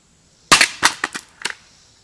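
A CSA vz. 58 rifle magazine dropped in a drop test hits the ground with a sharp, loud clatter, then bounces and rattles in a few quick, fading knocks, close by in a quiet setting.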